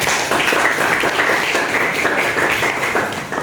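Classroom applause for group 4 with steady, dense clapping from many hands throughout, fairly loud and close, fading slightly at the end.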